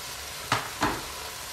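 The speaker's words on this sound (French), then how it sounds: "Vous mélangez un petit peu." Peppers, onions and tomatoes frying in a pan are stirred in two quick scraping strokes over a steady low sizzle, close and fairly quiet, with no talking.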